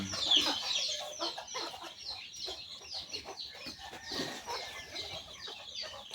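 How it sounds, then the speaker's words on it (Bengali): Chickens cluck and squawk restlessly at a small village farm, a busy overlapping chorus of close and distant calls with faint rustling, moderately quiet throughout. "এই যে মুরগিতে আবার ঝামেলা শুরু করে দিল না।"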